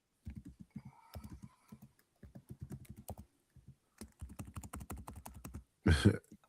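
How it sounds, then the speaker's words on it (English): Quick, irregular clacking of keys on a computer keyboard picked up by a nearby microphone, bursts of rapid taps separated by short pauses, ending with a louder thump. "We can hear the typing."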